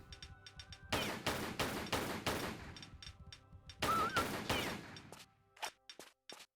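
Pistol fire at a dog in the Antarctica level of Tomb Raider 3, with several bursts of rapid, loud shots, a pause, then another burst and a few scattered single shots over faint game ambience.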